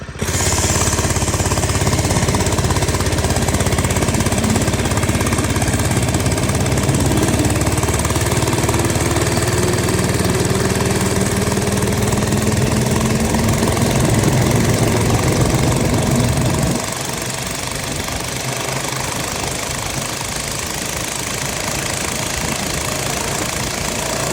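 A mini bike with a 224 engine idles nearby in a loud, steady, knocking chug, settling into a slightly quieter, lower run after about two thirds of the way through.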